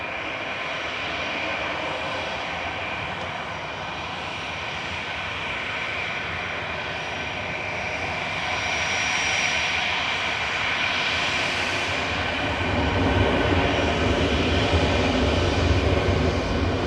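A plane departing Manchester Airport bound for Mahon, Menorca, a sustained loud jet engine roar that swells and grows heavier toward the end, with no voices.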